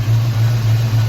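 A 1986 Mustang SSP engine idles steadily just after new spark plugs and wires were fitted, a loud, close, continuous low rumble with no revving and no talk.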